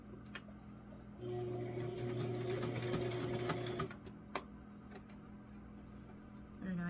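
A sewing machine stitches through layered fabric for a kitchen apron, giving one steady mechanical whir of about two and a half seconds, surrounded by quiet handling clicks and taps.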